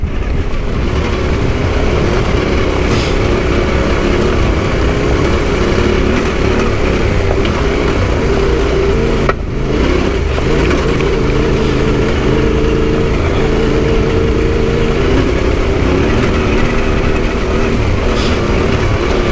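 A Yamaha T7 adventure motorcycle climbs a rough hill, its engine droning loud and steady close up with slight rises in pitch. Heavy wind and rumble continue throughout.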